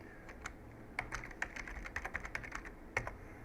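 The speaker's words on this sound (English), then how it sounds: "then you come up here and type it in again" Soft, quick computer keyboard clicks come in an uneven run of keystrokes, close and fairly quiet, with no voices.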